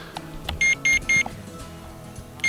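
A JJRC X7 GPS drone hovering about 30 meters up gives a series of loud electronic beeps, three quick ones in a row and another a moment later, over faint background sounds.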